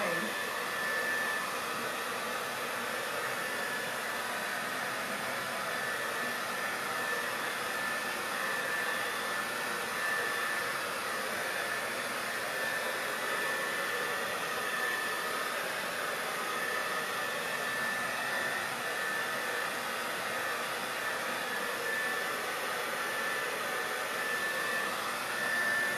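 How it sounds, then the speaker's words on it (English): A hair dryer blows steadily to dry paint on a distressed harlequin finish, a constant close whooshing whine running unbroken throughout with no talk. "I hate videos where you have to dry the paint."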